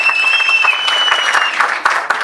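Steady applause from an audience at an awards ceremony for a logo and poster competition, dense clapping that holds throughout, loud and continuous with a faint tone above it.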